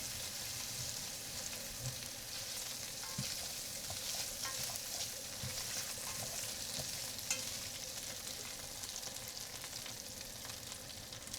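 Pork belly stir-frying in a very hot pan as Chinese seasoning is added, giving a loud, steady, continuous sizzle with occasional stirring scrapes and no voices.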